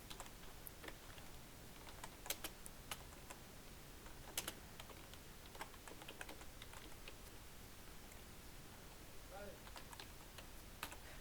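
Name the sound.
typing on a computer keyboard in MS Word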